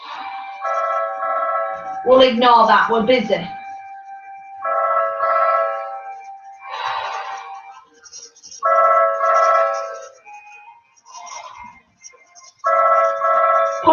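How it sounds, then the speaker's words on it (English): A mobile phone ringtone plays a repeated electronic melody in short bursts with gaps between them, fairly close. Someone talks briefly between the rings. "Oh, that's my phone."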